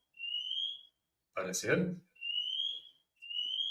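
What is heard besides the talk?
fire alarm ringing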